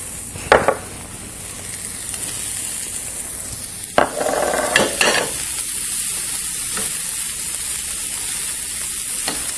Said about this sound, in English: You want to cook that down until it's slightly wilted.